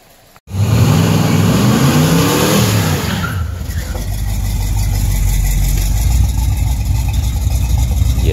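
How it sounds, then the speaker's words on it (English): A 1972 Chevrolet C10 pickup engine roars to life and revs hard up close, then settles into a loud, rumbling high idle that holds steady to the end. "Man, I love 67 to 72 trucks."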